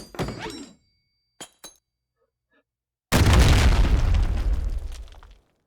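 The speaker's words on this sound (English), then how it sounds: "A traditional Fragmentation grenade." Fragmentation grenade exploding in the VR shooter H3VR, one loud, close blast with a deep rumbling tail lasting about two seconds, preceded by a few faint clicks and taps.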